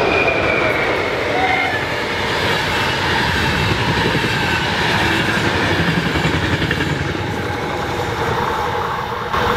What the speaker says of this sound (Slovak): No ide vlak teraz, takže teraz nič nehovor.